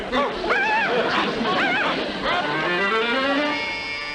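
A dog yips and barks in rising, excited bursts, then lets out a long drawn-out whimper, loud and close, while voices talk nearby.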